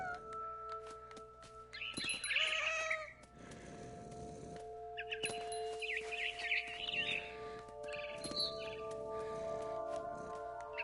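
A cat meows a few drawn-out times in the video game What Remains of Edith Finch, over a steady synthetic musical drone, with a few faint chirps in between.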